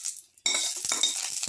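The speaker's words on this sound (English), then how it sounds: "Put in the cardamom pods" Cardamom pods drop into a cooking pot for a black currant coconut milk semolina soup, giving a bright clinking rattle with a few small taps after a brief quiet start, close and alone.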